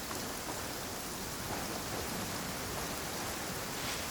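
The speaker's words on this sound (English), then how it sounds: "Taking a stroll in the middle of a downpour certainly rouses the spirit." A dense, steady downpour rains down in the fantasy game Genshin Impact, a uniform broadband hiss of rainfall holding at the same loudness throughout with no voices or other sounds.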